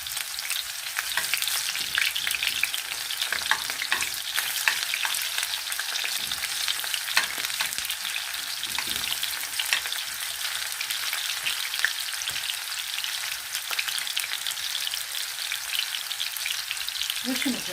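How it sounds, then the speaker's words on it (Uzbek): Onions fry in hot oil in a pot for buckwheat plov, a steady close sizzle and crackle with occasional stirring scrapes, continuous throughout without speech. "Birinchi piyozimizni solamiz."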